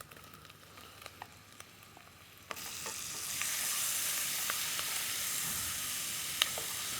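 Onions cooked in butter with peaches, star anise and cardamom in a pan. It starts as a quiet crackle with scattered ticks, then a loud, steady sizzling hiss fills the rest, close up and without speech.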